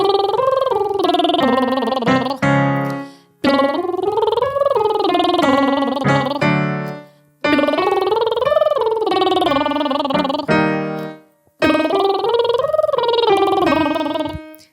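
A singer does lip-bubble vocal exercises: four buzzing, rolling slides that sweep up and back down in pitch, each a few seconds long, softer on the way up and louder coming down, with brief gaps between.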